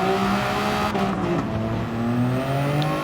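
Race car engine in Gran Turismo 7 fitted with long road-racing gearing, droning steadily and loudly as it accelerates, its pitch climbing through gears with a brief tire squeal, no voices over it.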